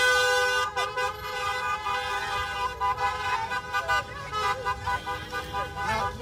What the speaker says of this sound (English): We still have youth blasting their horns